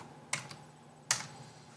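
Two short bursts of computer keyboard typing, a quick cluster of keystrokes and then a second sharp one, close and fairly quiet over a faint steady hum.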